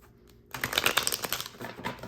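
Tarot cards being shuffled by hand, a close, quick run of crisp riffling and flicking that starts after a short quiet moment and continues steadily.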